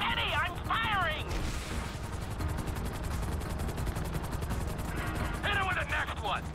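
Gunfire from a helicopter in Grand Theft Auto 5: steady rapid shots and a constant rotor-like roar fill the scene, with voices talking at the start and end.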